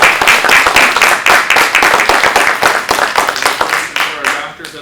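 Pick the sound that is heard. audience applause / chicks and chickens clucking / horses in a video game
audience applause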